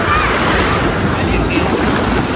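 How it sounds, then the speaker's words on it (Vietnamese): Sea waves at Thuan An beach near Hue make a loud, continuous roar of surf, heavily mixed with wind buffeting the microphone. "Biển chiều nay nha bà con."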